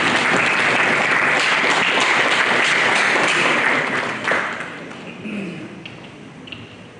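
Applause from a conference audience for a panel at a real estate and infrastructure gathering: dense, steady clapping for about four seconds, then fading into scattered claps and room noise.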